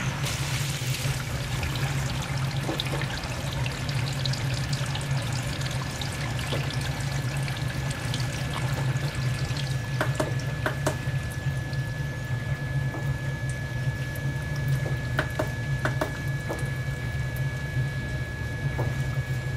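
A Basement Watchdog Pro Series 1730 sump pump hums steadily while water pours and gushes continuously, close and loud throughout, with occasional splashes.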